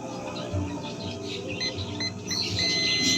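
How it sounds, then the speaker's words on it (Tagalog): A continuity tester emits faint, thin electronic beeps during a small electronics repair, heard toward the end over a low background hum and scattered handling noise. "Di ba nag-beep yung tester?"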